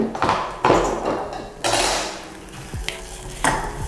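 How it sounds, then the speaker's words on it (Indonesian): Onion sautéing in a pan, a steady sizzle broken by several loud scraping strokes of a spatula against the pan at an irregular pace. "Bombay kita tumis sampai dia itu wangi aja, nggak usah sampai kecoklatan juga"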